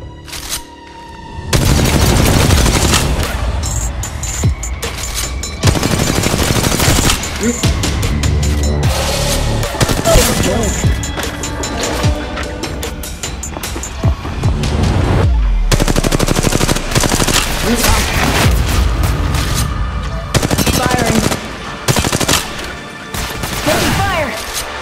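Loud, sustained automatic gunfire from the video game Apex Legends, with rapid bursts and heavy booming shots in long runs broken by brief gaps, dense and close throughout.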